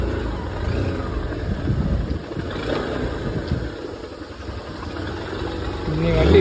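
A motorbike engine idles before a ride to a waterfall, a low steady rumble close by, partly under people talking.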